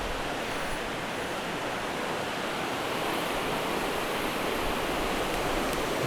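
Steady broadband rush of a waterfall pouring into a stream pool on a winter fly-fishing outing, continuous and fairly close, with no voices over it.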